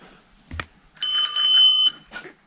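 A bicycle bell on a Dutch-style Hollandrad rings once in a bright, sustained metallic trill close up, preceded and followed by brief handling clicks.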